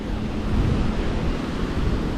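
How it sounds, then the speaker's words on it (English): Pacific Ocean waves at Ocean Beach, San Diego, form a steady, dense surf roar with wind buffeting the microphone, with no voices. "Looks like some good waves today."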